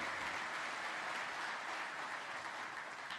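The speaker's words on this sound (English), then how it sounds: "Everyone is applauding." An audience at an RV breakfast event applauds in a dense, continuous wash of clapping that holds steady for a few seconds.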